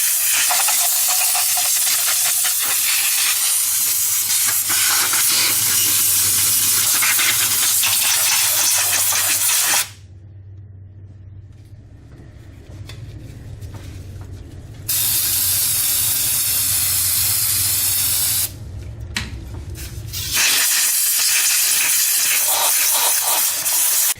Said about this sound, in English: you might even want to use that brake cleaner around some of these areas and then blow dry it like I like to do also